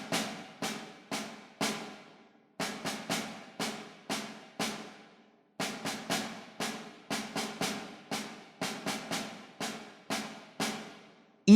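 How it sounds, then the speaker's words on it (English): A snare drum taps out the rhythm of Happy Birthday in crisp strikes, short phrases separated by brief pauses, close and dry. "if we played only the rhythmic pattern of Happy Birthday on a snare drum"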